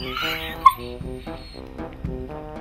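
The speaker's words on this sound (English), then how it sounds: "even Hot for Words' dog isn't even this spoiled, Marley." Small pampered dog whimpering and yipping indoors in short whiny bursts, close to the microphone, with no clear speech.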